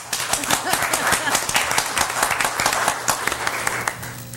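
A city commission meeting audience applauds, a dense, steady wash of many hands clapping at once, sustained throughout at a moderate level with a faint low hum beneath.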